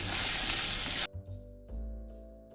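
Coriander leaves hit hot tempering oil for a gram-flour pithla, setting off a loud, dense sizzle that cuts off abruptly after about a second. Quieter scattered crackles follow.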